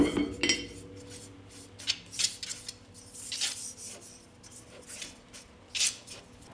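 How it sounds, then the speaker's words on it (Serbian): A frying pan is handled and greased with oil while making bread without an oven, bringing intermittent metallic scraping, rubbing and light clinks, close up and with no talking. "Sad će mi trebati jedan tiganj i njega ću podmazati sa uljem."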